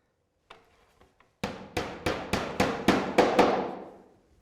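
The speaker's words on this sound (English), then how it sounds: "The 25 mil is that bit there so that I can nail it to the batten." Hammer blows drive nails through thin code 3 lead soakers into a timber roof batten among slates, with three light taps first and then eight sharp, evenly spaced strikes that ring out and fade.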